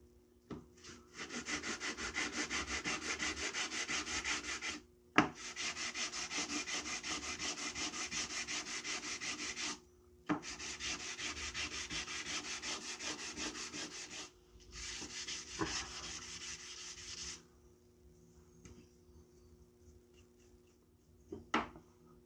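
Fine sandpaper rubs the faces of a handmade wooden marking gauge in long steady bursts of gritty scraping, three sustained spells separated by brief pauses, then lighter, sparser rubs trailing off.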